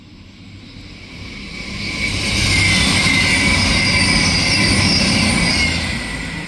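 A CrossCountry Voyager diesel unit 221-119 running from Bristol Temple Meads to Manchester Piccadilly passes at Heaton Chapel, a loud building roar of engine and wheels that swells and holds steady, with a high rail hiss above.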